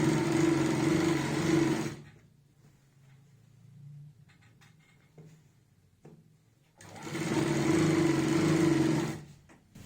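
A sewing machine stitches a salwar seam in two steady bursts of rapid, even running, one at the start and one near the end, with a quiet pause of handling and small clicks between.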